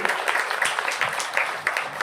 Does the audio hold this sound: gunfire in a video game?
no